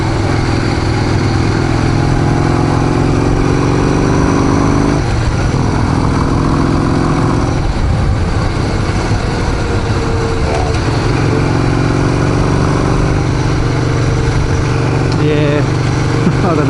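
A Harley-Davidson XR883 custom motorcycle engine rumbles steadily and loudly throughout, with a few brief throttle changes, while someone talks over it at close range.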